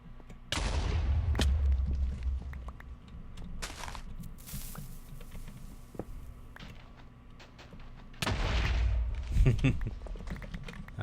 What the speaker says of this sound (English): how did I light TNT on fire?